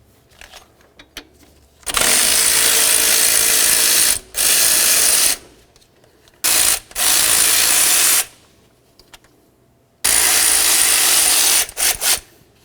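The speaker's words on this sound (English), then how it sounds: "Let's go ahead and remove this nut, then this bolt" On a Chevy C/K truck during intake gasket replacement, a power ratchet spins a nut and bolt loose in four loud, close bursts of buzzing whir lasting one to two seconds each, separated by short pauses and faint clicks.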